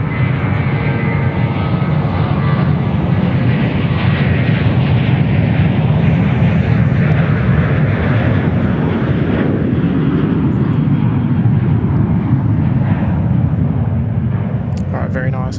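A Singapore Airlines Airbus A380 at Sydney Airport gives a loud, sustained jet engine roar that holds steady and close throughout, with a Boeing 747 holding short nearby.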